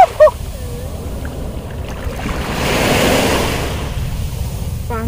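Sea waves wash in at Lazarus Island beach in Singapore, a broad surge swelling in the middle of the clip, with a couple of brief honk-like calls at the start and end.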